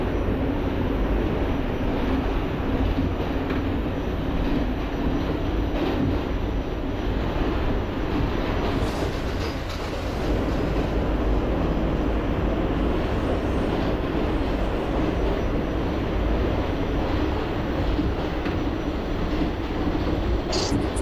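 A subway A train running to Far Rockaway in the OpenBVE train simulator: a steady, loud rumble of the cars in motion, broad and continuous for the whole stretch without breaks.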